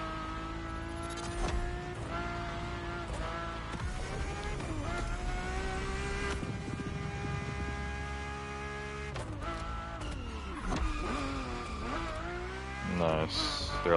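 A 1990s Ferrari F50 hypercar in the racing game The Crew Motorfest revs hard through rising and falling gear changes, with a screeching tire squeal near the end, loud and close throughout.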